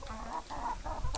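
Farmyard chickens cluck in short, repeated bursts close by, with a soft rustle of background activity and no speech.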